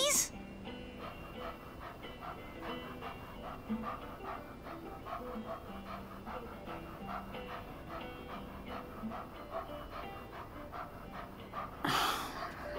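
A puppy pants steadily in Life is Strange 2, a quick rhythmic run of breaths that continues throughout, with soft dog whimpers mixed in and a brief louder burst near the end.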